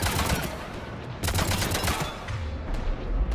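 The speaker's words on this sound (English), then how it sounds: "All right, assault rifle time." Assault rifle fire in a video game, a steady stream of loud, dense rapid bursts with brief pauses and low rumbling impacts under the shots.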